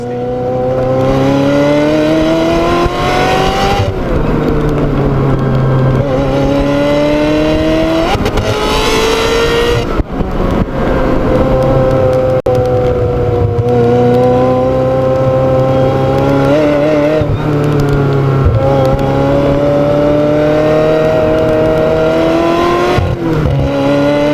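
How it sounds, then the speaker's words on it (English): Ferrari 355 Spider engine revving on the move, loud sustained tone climbing through the gears with repeated shifts and a slight whistle, heard close from inside the open car. "almost feels a bit like a motorbike engine"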